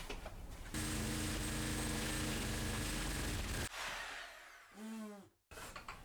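Fine-tooth hacksaw blade on a hand saw cutting through an interior wall, a loud steady rasp for about three seconds, then short bursts and pauses.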